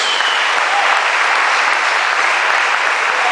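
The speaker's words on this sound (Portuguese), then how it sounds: "Quantos podem aplaudir ao Senhor, já agradecendo a Ele, crendo que Deus fez?" A church congregation applauds steadily, a dense even wash of clapping from many hands that fills the whole stretch with no break.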